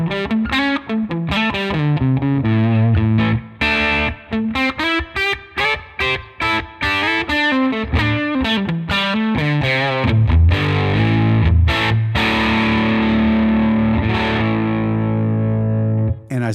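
An electric guitar plays through a California Tweed amp capture with a Jensen speaker impulse response, giving a loud, distorted, chorused tone as a busy run of picked notes and sustained chords continues throughout without speech.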